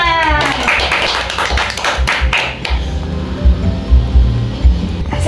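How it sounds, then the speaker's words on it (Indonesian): A primary school class claps their hands in applause, a burst of scattered, overlapping claps near the start that thins into a few looser claps and taps amid room noise. "tepuk tangan."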